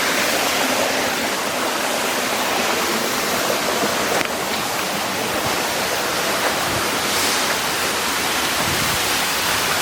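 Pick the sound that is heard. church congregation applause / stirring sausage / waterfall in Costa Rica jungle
waterfall in Costa Rica jungle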